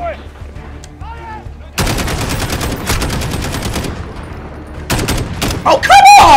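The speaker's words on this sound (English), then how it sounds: "I'm shooting right at you" Dense gunfire from Call of Duty Modern Warfare (2019): loud, rapid automatic bursts with sharp repeated cracks, a brief quieter lull in the middle, then another heavy volley near the end.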